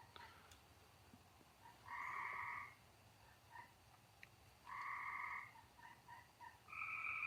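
A frog croaks in loud, drawn-out bursts right up against the side of a farm building at night, three main calls with shorter chirps between, over a quiet background hum.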